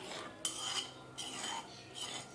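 Egyptian koshari ingredients are stirred in a pot, with three soft bursts of scraping and clinking from a utensil against the pot, fairly faint and close, with no voices.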